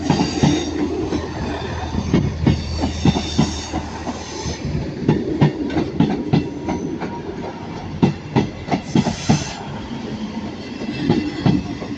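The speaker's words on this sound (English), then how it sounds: "arriving now is going to be the 1337 East Midland train service to Liverpool Line Street" An East Midlands Railway class 158 train pulls into Manchester Piccadilly station, with loud rhythmic clickety-clack of wheels over rail joints, brief squeals and rumbling carriages passing close by, without speech.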